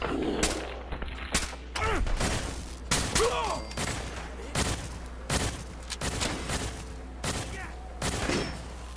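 Rapid gunfire bursts and thudding grenade blasts from a Fallout 4 firefight against Rust Devil raiders near Kingsport Lighthouse on PS4, repeated loud broadband cracks spread across the whole stretch, with faint voices underneath.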